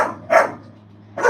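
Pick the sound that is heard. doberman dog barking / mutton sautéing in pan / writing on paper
doberman dog barking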